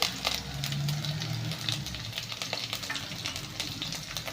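Curry leaves and green chillies fry in a hot pan, a soft continuous sizzle with scattered crackles and light stirring scrapes, fairly faint and close.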